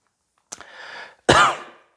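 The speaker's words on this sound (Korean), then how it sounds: "말을 할 때 자꾸 이제 기침이 나오려고 해서" A person coughs once with a short hoarse burst, then clears the throat in a louder rasping rumble, close and alone.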